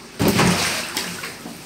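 Floodwater pours into a house in a sudden loud gush that surges and then settles into a steady rushing flow, with a second splashing burst shortly after.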